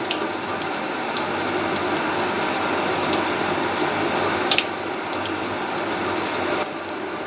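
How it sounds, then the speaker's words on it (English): Homemade butter kneaded into a ball and rinsed gently under running water: a steady close splashing hiss of water flowing from a tap, with faint clicks and small handling sounds, no talk. "we're just going to rinse it off here really gently."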